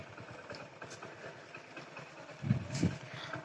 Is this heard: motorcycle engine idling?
yes